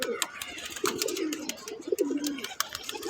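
A pigeon in a sky pigeon loft coos in low, rolling phrases, repeated several times amid sharp clicks and light background noise at moderate volume.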